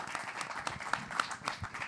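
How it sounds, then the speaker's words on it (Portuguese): Applause from an audience at a panel on peripheral literature, hip-hop and marginal art, heard as a short, fairly quiet patter of clapping hands with a faint crowd murmur behind it. "Salve de palmas, por favor."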